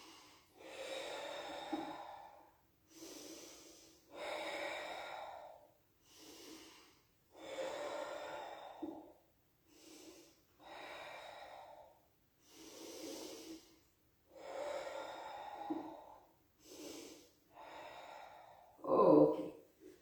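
Slow, deliberate breaths during a Pilates exercise, about nine long exhales and inhales in a steady rhythm, close and clear, ending with a sharper snort-like puff.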